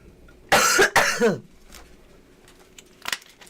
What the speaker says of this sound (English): I didn't want to cough on screen